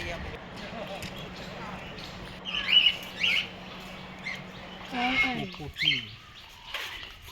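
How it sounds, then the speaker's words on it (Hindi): Shrill parrot squawks and chirps ring out a few times against busy background chatter at a zoo in Patna, moderately near. "उसके बाद हमें पैरट की आवाज़ सुनाई दी"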